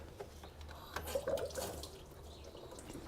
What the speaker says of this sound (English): Crack it loose, let it drain.